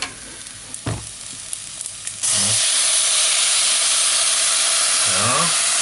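Broth is poured into a hot pan of coquillette pasta with chorizo, setting off a sudden loud, sustained sizzle and steamy hiss after a few soft clatters, with brief stirring scrapes near the end.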